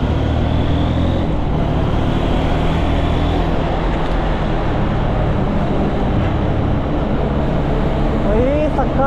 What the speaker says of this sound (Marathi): ही पहाटे 4 वाजता ट्रॅफिक आपल्या बेंगलोरमध्ये आहे